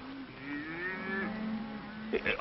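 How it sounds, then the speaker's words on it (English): Cattle mooing, heard as one long, drawn-out low moo at moderate distance over a quiet background, then a brief stir of other sounds near the end. "Dominique, these poor cattle, they don't got no home, so I gather them together"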